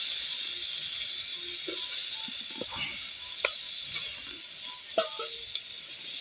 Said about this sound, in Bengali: পরিমাণে একটু তেল দেব, দিয়ে এবার কেটে রাখা টক ঢ্যাঁড়সটা দেব।